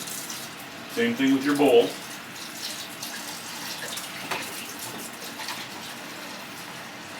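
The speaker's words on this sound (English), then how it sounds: "Put it in the sink, run some water on it." Tap water gushes into a kitchen sink onto a dirty pan in a short burst near the start, then fades to quieter running under a voice.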